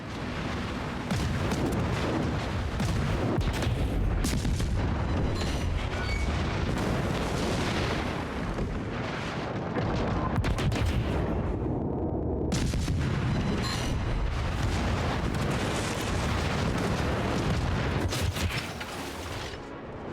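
Torpedo explosions strike an enemy cruiser in the naval battle game World of Warships, with a run of loud booming blasts and rumbling detonations. Gunfire-like cracks are layered over them, with a brief lull in the middle before the blasts resume.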